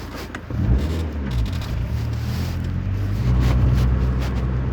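A truck labours up a narrow village road, its engine a steady low drone that swells as it climbs, close by and without any talk.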